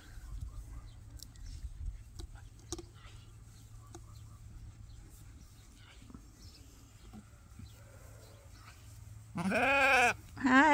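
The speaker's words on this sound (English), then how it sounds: "That one's a Suffolk ewe." A Suffolk ewe in a pasture with lambs gives one loud, wavering bleat near the end, close by, after a stretch of quiet outdoor background with faint rustles and knocks.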